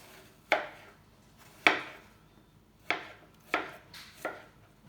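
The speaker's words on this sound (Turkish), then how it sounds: "3 tane elmamın kabuklarını soydum, iç çekirdeklerini temizledim ve şimdi doğrayacağım." A knife chops peeled, cored apples firmly against a cutting board five times at uneven intervals. Each sharp, close knock rings out briefly in a quiet room.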